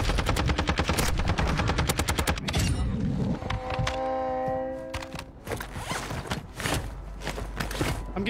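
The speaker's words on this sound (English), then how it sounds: "I'm getting shot in the back." Video game machine gun fire rattles out in rapid, loud bursts of sharp repeated shots, pausing briefly midway before scattered shots and impacts resume, with no talking.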